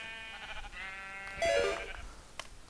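A blocky Minecraft-style sheep in the LancsCraft game lets out a drawn-out, wavering bleat that swells midway, heard alone over a soft game background.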